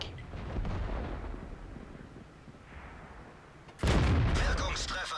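Tank cannon shots in World of Tanks, including an IS tier 7 tank, boom out as a sudden loud blast with a sustained rumbling tail after a stretch of engine and battle noise, with a voice commentating over it.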